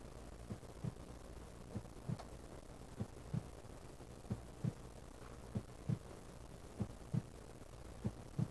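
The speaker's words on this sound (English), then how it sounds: "I hear a heartbeat, guys." Steady heartbeat in the Dreamy Rainbow 2 video game, soft low double thumps repeating roughly every second throughout over a faint hum, no talking.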